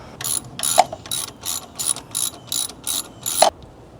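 A ratchet drives bolts into a PRL intake on a 2025 Honda Civic Type R, seven or eight even bursts of close, loud clicking in a steady rhythm with no speech.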